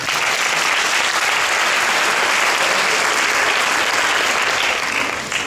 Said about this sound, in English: can we give a round of applause to the principals, teachers in charge, all participants, parents, and to the judges as well